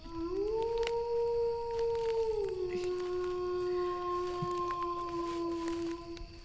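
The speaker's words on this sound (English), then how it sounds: "this is when we're supposed to do the wolf howl." A wolf howl sound effect from a podcast soundboard, a long steady sustained howl with slight falling pitch bends, played alone over a constant hiss for several seconds.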